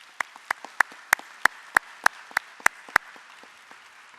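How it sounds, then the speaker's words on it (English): A single person's hand claps at an evening awards ceremony, about ten sharp, evenly spaced claps ringing out alone and fairly close, rather than a full audience applauding. "So give me a huge round of applause for the finalists and the winner."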